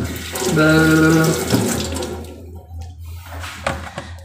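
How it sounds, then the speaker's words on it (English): A kitchen tap runs close by as tomatoes are washed under it, a steady rushing stream with a brief tonal hum early on and splashing that shifts as the produce moves through the flow. "Gotta wash these tomatoes."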